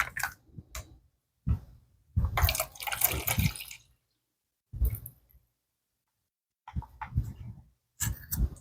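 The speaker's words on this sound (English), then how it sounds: "Then we'll pour this in the cup over here." Liquid from a US military MRE chili with beans meal being poured into a cup, coming in short irregular splashing bursts separated by silences, close and fairly quiet.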